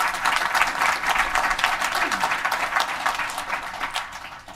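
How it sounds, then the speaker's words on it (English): A room full of attendees at a GopherFest gathering for Go programmers applauds the Women Who Go group, steady broadband clapping that holds for several seconds and then starts to thin out near the end. "round of applause for Women Who Go"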